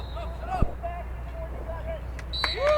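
Game buzzer at a boys' lacrosse match, a bright electronic tone sounding near the end under crowd noise and distant commentary.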